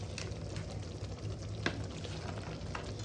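Deep-fried chicken pieces for restaurant-style Chicken 65 sizzle and frypan-stir steadily in a hot pan, a continuous crackle with a few louder scrapes, close and alone without talk.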